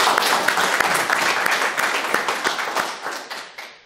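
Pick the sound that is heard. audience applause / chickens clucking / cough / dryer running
audience applause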